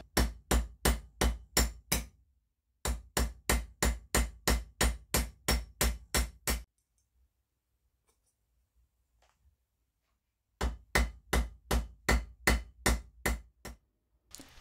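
A rivet snap is hammered onto rivets in a locomotive buffer beam, giving rapid, evenly spaced metallic blows in loud close bursts. A silent pause of several seconds comes before the hammering starts again.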